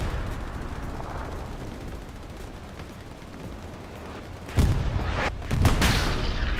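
Machine guns fire in Hell Let Loose during a friendly match on the Sainte-Marie map, with a dull rumbling battlefield backdrop and then two loud, sharp bursts of gunfire near the end.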